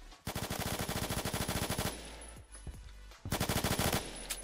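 Automatic gunfire in the Roblox game Phantom Forces, with close rapid-fire bursts of evenly spaced shots, a short pause with scattered rounds, then another loud burst.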